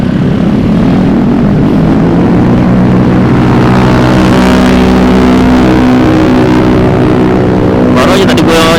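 A Yamaha Mio M3 motorcycle with a four-valve engine rides fast on a road, its loud, close engine drone and wind roar holding steady throughout with only brief changes near the end.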